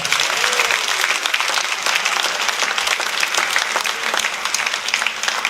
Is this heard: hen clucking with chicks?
no